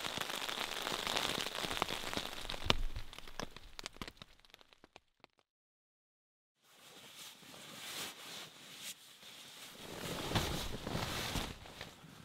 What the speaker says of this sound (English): it continued to rain, but we stayed dry as we slept through the night in our tents